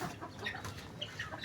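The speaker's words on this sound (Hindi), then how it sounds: "ये हमारा मुर्गा घूम रहा है।" A rooster walking about a farmyard gives soft, brief clucks and chirps, several short calls at low level over quiet background.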